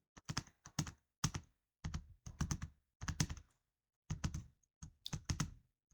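Computer keys clatter in short bursts of quick typing as a formula is entered into an Excel spreadsheet, crisp and close with brief pauses between clusters of keystrokes.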